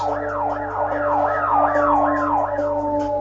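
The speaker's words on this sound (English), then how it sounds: "they started drowning me out with sirens" A wailing siren sweeps up and down in a steady, repeating cycle, fairly close and continuous, over a low hum of traffic, during a prison riot.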